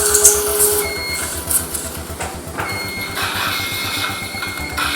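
A dental implant motor drives an implant into bone at around 30 Newton of insertion torque, giving a steady, close mechanical whir with a fast regular pulsing and faint high tones, running continuously without talk.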